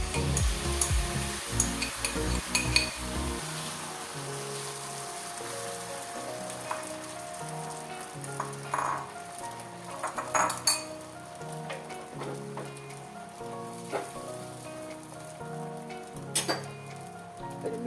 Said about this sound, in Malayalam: നമ്മൾ നേരത്തെ തയ്യാറാക്കി വെച്ചിരിക്കുന്ന മുട്ട ഈ പാനിനകത്തേക്ക് ഒഴിച്ചു കൊടുക്കാം